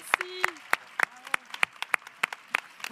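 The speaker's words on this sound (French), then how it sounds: "on peut juste les applaudir très, très, très, très fort" Scattered, sparse claps from an audience at a ChangeNOW 2023 talk, a dozen or so distinct sharp hits spaced irregularly rather than dense applause, with faint voices or tones in between.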